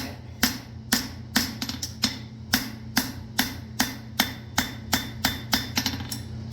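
A light hammer strikes hot metal on an anvil to flatten it, about fourteen sharp ringing blows in an even, brisk rhythm with slight pauses, close and clear over a low hum.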